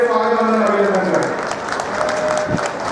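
A crowd at a public event applauds to welcome Madhya Pradesh Chief Minister Shivraj Singh Chouhan, the clapping steady and dense beneath a loud voice speaking over the top.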